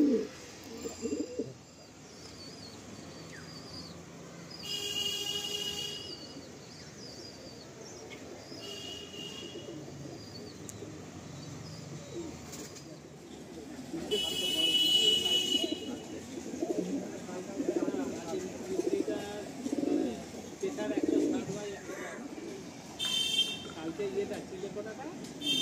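A female loft pigeon coos in low, rolling murmurs through most of the stretch, close by and moderate in volume, with brief higher chirps and a person talking at times over the cooing.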